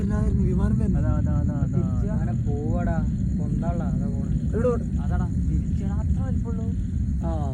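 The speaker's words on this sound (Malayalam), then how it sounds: "വിമാനം വരുന്നുണ്ട്." A low, steady engine rumble drones throughout like an aircraft passing, with a person talking over it.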